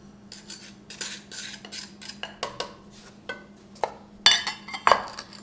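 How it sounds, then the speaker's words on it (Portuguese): A spoon stirs sugar and spices such as clove and cinnamon in a metal pot, giving scattered scrapes and clinks at an uneven rhythm, with a couple of sharper, louder knocks near the end. "Vai mexendo para dissolver bem esse açúcar"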